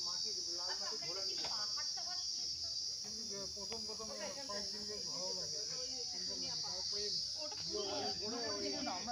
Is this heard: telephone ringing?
no